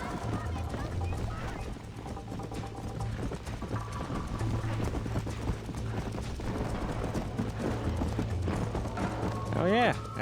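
Galloping horse hooves in the video game Red Dead Redemption, a rapid continuous clip-clop over game music and dialogue, ending in a brief neigh.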